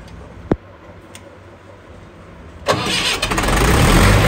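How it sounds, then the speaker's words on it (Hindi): A Kirloskar 35 kVA air-cooled diesel generator with an HA494 engine cranks and starts: a sharp click, a pause, then a loud rising mechanical roar that settles into a steady running drone nearby. "हाफ सेल्फ इंजन स्टार्ट हो चुका है दोस्तों"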